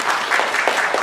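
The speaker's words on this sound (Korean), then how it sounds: "저희 손남훈 교수님 박수로 맞이해 주시기 바랍니다." A lecture audience claps steadily to welcome a statistics professor to the stage, a short, even burst of applause with no talk over it.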